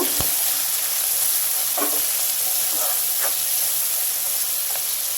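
Shrimp with chopped chillies fry in a pan, giving a steady close sizzle and hiss throughout, with a few soft stirring scrapes and clicks.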